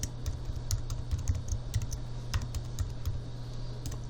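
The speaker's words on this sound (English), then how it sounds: "we'll type in the user, expert user" A username goes in on a computer keyboard, a short burst of quick, light key taps at close range over a faint steady hum, with no voices.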